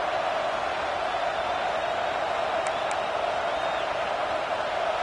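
A football stadium crowd roars on a third-down play, a dense, steady wall of cheering and noise that holds at the same loudness throughout, with no clear voices standing out.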